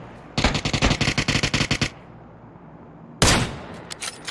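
Video game gunfire in a battle royale match, a rapid automatic burst of about a dozen loud close shots followed by a pause, then another heavy shot and scattered fainter rounds.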